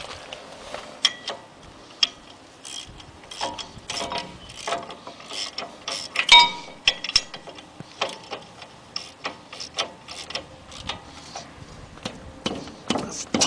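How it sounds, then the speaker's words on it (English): Caliper bracket bolts on a 2008 Chevrolet Silverado's front brakes being tightened, giving close, irregular metallic clicks and ratcheting clatter in uneven bursts with short pauses, and no talking. "Put your two caliper bracket bolts back in. Tighten those up."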